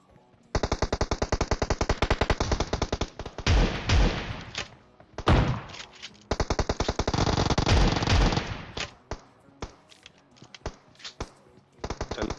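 Rapid bursts of automatic gunfire from players fighting in the battle royale game PUBG, with long rattling volleys broken by single shots and short pauses, loud and close.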